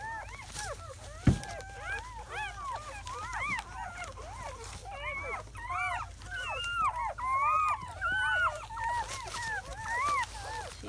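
Seven newborn German Shepherd puppies whimpering and squeaking in a constant overlapping chorus of high, rising-and-falling cries, close by, with one sharp bump early on.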